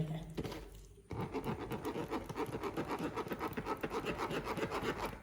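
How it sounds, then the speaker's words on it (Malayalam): Spoon stirring blended papaya through a strainer while making papaya halwa, a rapid rhythmic scraping and rubbing close up, steady after a short pause. "ഇനി നമുക്ക് അത് അരിച്ചൊഴിക്കണം. ഒന്ന് നമ്മൾ സ്പൂൺ കൊണ്ട് ഇളക്കി കൊടുക്കണം."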